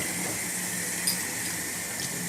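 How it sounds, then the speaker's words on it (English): Tap water runs steadily into a sink to rinse a plastic woodwind mouthpiece, a close, continuous splashing rush with no voices. "you get that water on, but you don't want it to be too hot or too cold or anything of that sort"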